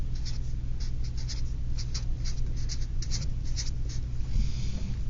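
Pen or pencil writing out a statement on paper, close and steady, with short scratchy strokes and brief pauses in an irregular rhythm over a low background hum.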